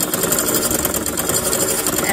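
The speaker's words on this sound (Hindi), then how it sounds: "किनारे पे सिलाई लगाते जाएंगे" Sewing machine running steadily as it stitches along the edge of fuse paper on a fabric strip for ladies' cigarette pants, a dense continuous mechanical whir close up.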